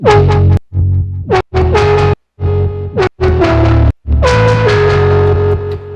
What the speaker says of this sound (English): So the delay first sounds like this without the automation.